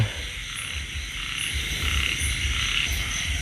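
Frogs croak at night in a rural field, a dense, loud chorus of repeated croaks pulsing steadily, with insect trilling layered throughout and no voices.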